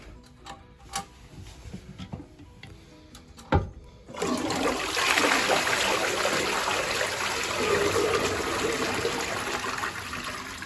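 A newly fitted toilet flush: clicks and a thump, then loud rushing water as the cistern refills, a steady close hiss that continues to the end.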